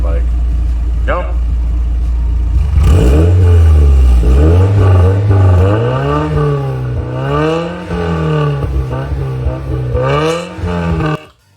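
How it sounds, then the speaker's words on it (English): A Mazda Miata's built engine and exhaust rumble and rev repeatedly, rising and falling in pitch, loud and close, before cutting off at the end. "here's a sound clip of the exhaust, kind of what it sounded like"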